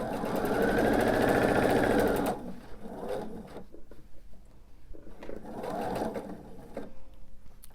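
Sewing machine stitching a quilt top, running loud and steady for about two seconds, then stopping, with a second, softer run later and quiet handling noise between.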